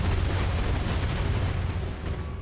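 Heavy mortar fire booms in Gears of War 2, a loud continuous rumbling barrage of low blasts filling the scene without any voices.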